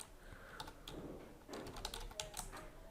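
Keys clatter on a computer keyboard as tags are entered into a WordPress page, a steady run of soft, close clicks with brief pauses and no voices.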